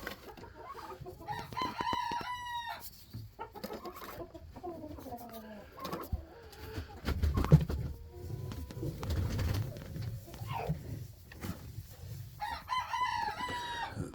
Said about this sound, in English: Silky rooster sound horrible.